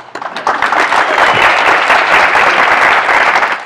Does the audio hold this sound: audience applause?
yes